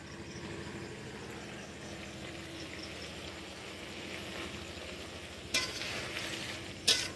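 Black cumin and chili paste going into frying fish, charkonda fish cooked with ridge gourd: steady close sizzle with stirring, and two sharper bursts of spatter near the end.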